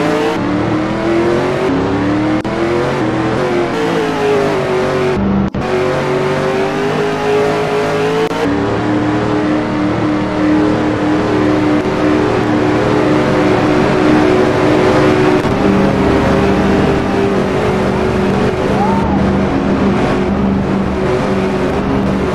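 A car engine in a video game revs hard and steadily for over twenty seconds, rising and falling in pitch through gear changes, loud and close with no talking over it.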